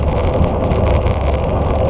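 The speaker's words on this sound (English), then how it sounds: "Oh, this wind." Strong wind roaring across the microphone while cycling outdoors, a loud, continuous buffeting rumble with gusty surges and no break.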